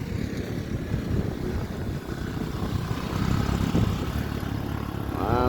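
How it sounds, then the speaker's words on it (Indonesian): A Honda Vario scooter passes on a road with a steady engine drone that swells as it approaches, heard from a moderate distance amid road noise. "Yo, Vario ini. Honda Vario lagi."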